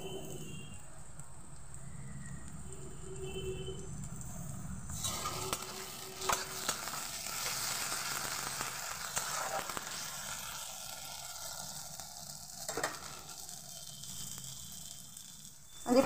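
Ginger garlic paste fries with a bay leaf and chopped green chillies in hot oil, a continuous close sizzle that swells as the paste goes in, with occasional stirring scrapes.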